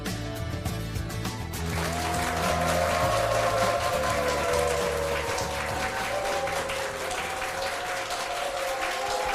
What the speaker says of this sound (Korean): 우리 회원분들의 박수와 함성으로 시작을 했습니다